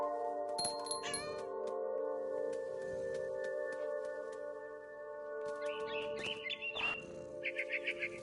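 Small bird chirps come from a What Remains of Edith Finch game scene. Short tweets appear near the start and again near the end over a steady, sustained musical drone.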